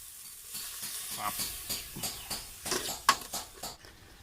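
Curry paste sizzling and being stirred in a pan for an eel curry, with irregular scraping strokes and soft crackling, close and moderately quiet.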